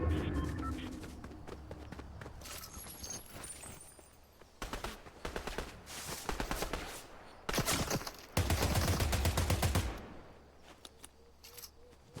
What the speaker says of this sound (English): Also got gunfire behind us.